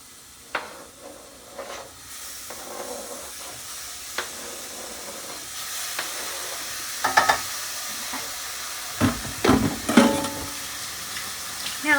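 Vegetables frying in a pan, a steady low sizzle and hiss with intermittent stirring scrapes and clinks, growing a little busier toward the end.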